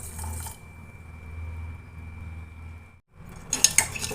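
A spoon stirs Bru instant coffee, sugar and a little milk in a cup, with a few bright clinks against the cup near the end after a quiet, steady hum.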